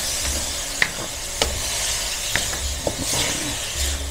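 Baguio beans sauté in a pan, with a steady bright sizzle and several sharp clinks of a utensil stirring against the pan, close and alone with no talk.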